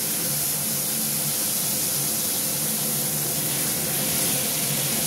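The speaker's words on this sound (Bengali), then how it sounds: "এবার এর মধ্যে আমি দেব আদা রসুন পেঁয়াজ পেস্টটা দেখো বন্ধুরা দিয়ে দিচ্ছি এর মধ্যে" Ginger-garlic-onion paste hits hot oil with potato and tomato, giving a continuous, dense hiss and sizzle at moderate level that holds steady from start to finish with no talking.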